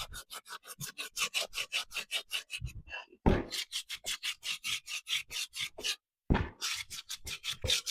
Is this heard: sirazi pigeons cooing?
no